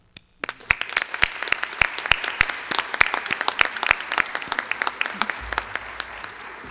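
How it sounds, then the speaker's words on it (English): An audience applauds at a nursing pinning ceremony, a dense, steady patter of many hands clapping in a hall that starts abruptly and carries on without a break. "For this, we congratulate and applaud you."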